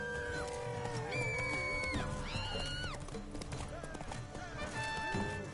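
Roach the horse gallops in The Witcher 3, a quick, steady clip-clop of hooves that stays close and loud under sustained melodic tones from the game's music.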